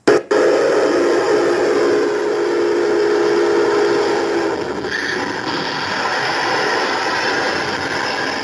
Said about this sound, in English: the train is going by full speed ahead